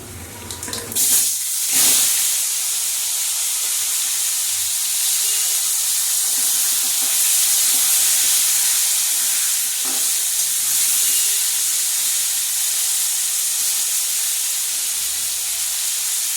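Potatoes and tomatoes hit tempered hot oil for a hilsa-head cabbage curry, giving a loud, steady hiss and sizzle that holds for the whole stretch after a sharp onset, with faint clatter underneath.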